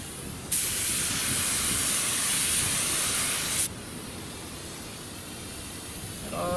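Paint spray gun running on compressed air, a loud bright hiss that starts abruptly, holds steady for about three seconds across a pass, then cuts off, leaving a quieter background hum.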